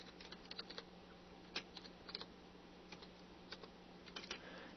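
Quiet keyboard typing during a PHP and MySQL programming session, with scattered light clicks in short bursts and isolated taps over a steady low hum.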